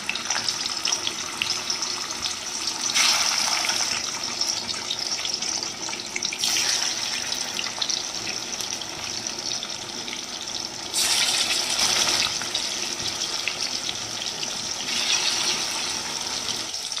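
Fish pieces coated in salt fry in mustard oil in a wok, making a steady close hiss that swells into louder sizzling bursts at intervals, with no talking.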